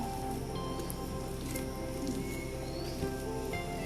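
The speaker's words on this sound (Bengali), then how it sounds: "বৃষ্টি।" Rain pours steadily outdoors, a dense, even hiss of drops that holds at one level throughout with no pauses or voices.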